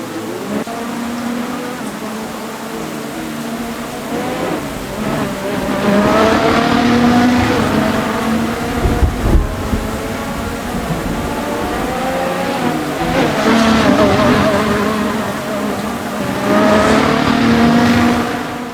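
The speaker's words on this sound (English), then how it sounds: "Russell coming out of the pit lane with no McLaren in sight." A Formula 1 race car leaves the pit lane at the 2024 Bahrain Grand Prix, its engine note rising and falling through gear changes, loud and continuous, with another car passing near the middle.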